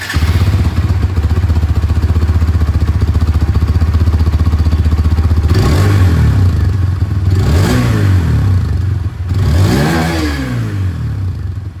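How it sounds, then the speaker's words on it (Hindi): A 2024 Hero Xtreme 160R 4V motorcycle idles with a deep, steady exhaust rumble, then revs sharply three times, each burst rising and falling. "सबसे पहले मैं आप लोगों को यहाँ पर इसकी ये जो एग्जॉस्ट साउंड है वो मैं आप लोगों को सुनाना चाहूँगा"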